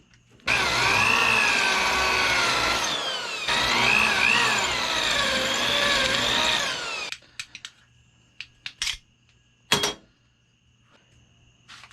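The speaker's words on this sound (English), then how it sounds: "I'm going to drill these two spot welds out from the back side here." Power drill boring out spot welds on a Nissan S14 car body, two loud sustained whining bursts up close, followed by short drill blips and clanks.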